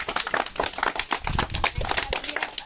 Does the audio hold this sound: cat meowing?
no